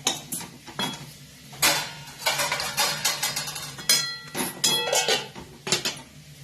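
Metal utensils clatter and clink against a cooking pot as a lid is set over it, a close series of sharp knocks, scrapes and ringing taps with brief pauses between them.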